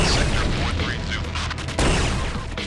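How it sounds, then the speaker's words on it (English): Doom shotgun blasts in Doom, loud heavy booms that pound repeatedly with a thick low rumble, a strong shot near the middle, over dense game noise. "you can judge a shooter by the quality of its shotgun, and Doom's is one of the best around"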